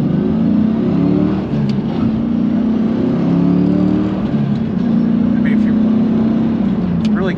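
A 2002 Pontiac Trans Am WS6 with its LS1 V8 gives a deep, steady engine drone that rises and falls in pitch under acceleration, heard from inside the car, with faint talk at moments.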